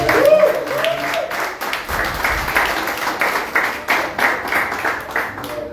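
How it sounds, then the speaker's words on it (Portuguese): A church congregation claps steadily throughout, a loud, dense patter of many hands under a continuous bed of crowd voices and cheering, with no clear break. "Dá uma salva de palmas pela vida"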